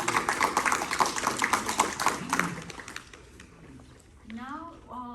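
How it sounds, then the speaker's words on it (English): Audience at a school board of education meeting clapping for about two seconds in quick scattered claps, fairly faint and indoors, fading out before voices follow. "So let's give a hand to them."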